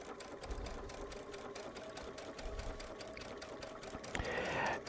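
A Baby Lock Solaris sewing machine fitted with a walking foot stitches steadily through a quilt, its motor whirring in a fast even rhythm at close range. A brief higher whine joins near the end, and no one speaks.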